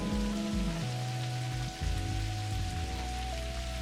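Steady rain falling outside in the Necrobarista video game, a continuous close patter on surfaces under layered sustained music tones, with no voices.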